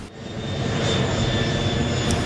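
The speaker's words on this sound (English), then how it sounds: "Oh look, it's a blue airplane. This airplane is flying." A blue airplane in flight gives off a steady, loud engine drone with a broad roar that holds evenly throughout.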